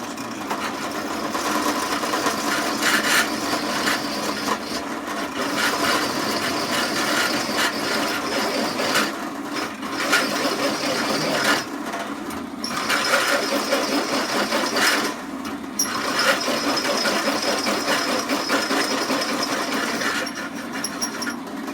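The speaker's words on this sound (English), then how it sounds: "So we started with a little pilot drill, and then we put the 5/8 in and drilled the bigger hole." A drill bores 5/8 inch holes through steel C channel in a workshop, a steady mechanical whir with a slipping belt running continuously for about twenty seconds, with brief dips and surges as pressure changes.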